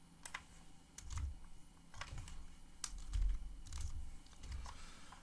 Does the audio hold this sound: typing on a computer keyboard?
yes